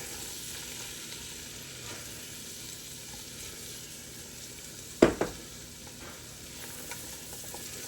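Shallots cook in a pan for a shellfish bisque, a soft, steady frying hiss with a couple of sharp spoon scrapes and clunks as they are stirred, no voices.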